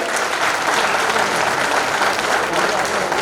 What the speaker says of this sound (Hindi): फुट ओवर ब्रिज के लिए पर जोरदार तालियां भी दोबारा हो रहे हैं